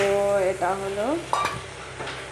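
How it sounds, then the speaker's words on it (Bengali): Masala for a dried-fish (shutki) curry sizzles loudly in the pan after hot water is poured in, with squealing, gliding tones over the steady hiss that fade after a couple of seconds. "এটা কিন্তু আমি একটু গরম জল ঢেলে দিলাম"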